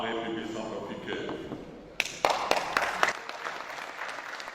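Members of the National Assembly of the Central African Republic break into applause in the chamber, a sudden burst of clapping that follows talk and then settles into scattered claps.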